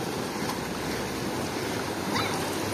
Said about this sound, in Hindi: और वो आ रहा है झरना इधर से